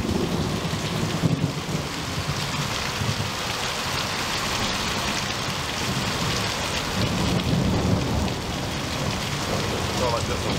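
Heavy rain with thunder in Michigan, a loud continuous downpour hissing on surfaces with deep rolling thunder rumbling beneath, close and steady with no pauses.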